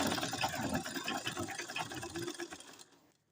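A sewing machine fitted with a fine size 11 needle stitches nylon fabric in a fast, even mechanical chatter. The sound stops abruptly at the end.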